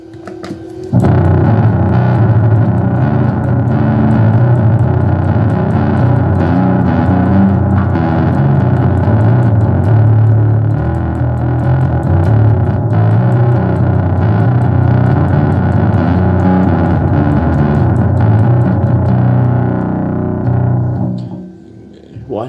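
Bass guitar played through a heavy distortion pedal into a Fender Rumble 25 V3 amp, a thick, fuzzy, sustained tone ringing loudly for about twenty seconds before cutting off.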